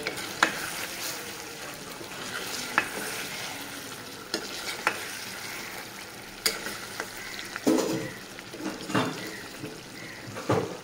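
Onions frying slowly in a pan for chicken roast, a soft continuous sizzle with scattered scraping stirs and clinks of a spoon against the pan, no talking.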